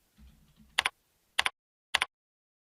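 Three crisp keystroke clicks on a computer keyboard follow a soft low rumble, the last tap landing firmly like an Enter press, spaced roughly half a second apart and heard alone.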